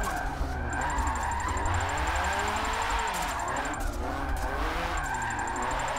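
A hot hatch car slides through a long e-brake drift on a track, tires squealing continuously over a loud, wavering engine drone for several seconds, with no talking.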